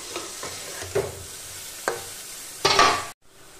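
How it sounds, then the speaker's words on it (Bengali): Prawns being stir-fried in a pan for a Bengali drumstick and prawn curry, with scraping stirs over steady sizzle and a louder burst of frying near the end before it cuts off. "এবার আমি এর মধ্যে দিয়ে দিচ্ছি চিংড়ি মাছ। দিয়ে এটাকে এখন আমি ভালো করে আর একটু কষিয়ে নেব।"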